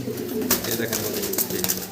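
Soft pigeon cooing repeats a few times close by over a low steady background hum.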